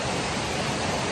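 Steady broadband rush of a waterfall in the hills of northern Thailand near Mae On and Mae Kampong village, a continuous even roar heard up close with no voices over it.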